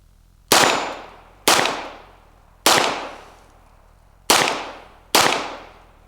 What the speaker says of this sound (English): This is actually a pretty fun little gun. We're loaded. We're gonna try and actually hit some targets this time